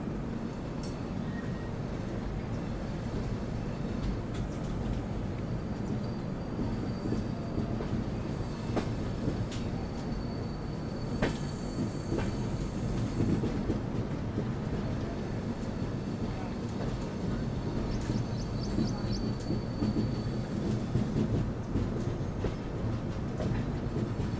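The Kashi Vishwanath Express rolls along a curve out of Ghaziabad, giving a continuous, even rumble of wheels and coaches heard from onboard with no sharp breaks.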